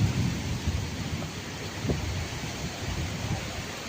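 Heavy rain pours steadily at a hilltop spot, a dense, even roar with low rumbles of thunder underneath and a slightly stronger swell near the middle.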